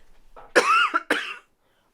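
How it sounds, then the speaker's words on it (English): A person gives two harsh coughs close to the mic, the first longer and the second shorter, in an otherwise quiet room. "I don't mean to cough in your ear"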